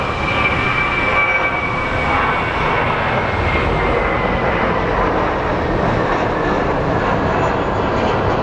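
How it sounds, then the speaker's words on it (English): A Boeing 737 MAX airliner rolls for takeoff at Phoenix Sky Harbor, its jet engines giving a loud, steady, broadband roar that holds throughout with no talk over it. "the Denver flight is already rolling"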